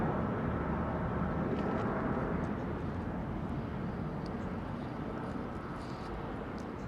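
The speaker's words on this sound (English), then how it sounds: "United 767-300 taxiing out" United Boeing 767-300 airliner taxiing out at London Heathrow, a steady broad jet-engine rumble and hiss that holds at a fairly constant level, then eases slightly near the end.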